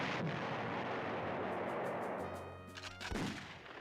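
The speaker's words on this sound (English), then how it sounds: "Let's use our artillery to soften the enemy up." Artillery fire from the Panzer General strategy game, a dense continuous roar of booming shots, with a heavy low blast near the end and a few sharp ringing hits, loud and without any voices.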